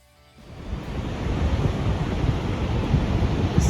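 A continuous roar of rushing, crashing water from a waterfall in Iceland swells in after a brief quiet start and holds steady and loud, with no voices.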